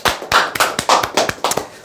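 A small audience claps in a quick, uneven rhythm of sharp, close slaps that last under two seconds.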